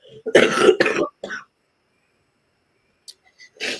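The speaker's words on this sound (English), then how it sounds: "Excuse me, I'm going to cough." A couple of harsh, close coughs in quick succession, then a long silence before a few faint mouth sounds and a soft breath.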